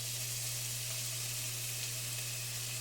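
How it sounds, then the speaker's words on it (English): Food sizzles in a hot pan with a steady, close frying hiss over a low electrical hum. "you can hear it sizzle, which is always good."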